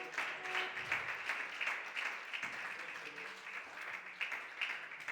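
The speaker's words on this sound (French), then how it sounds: "Applaudis pour le Seigneur." A church congregation claps together in praise, a dense, slightly pulsing patter of many hands at moderate distance, heard on its own without speech.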